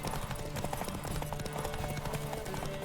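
Hooves clop in quick succession as a horse moves along in The Witcher 3, set against a dense bed of game sound and a steady low hum.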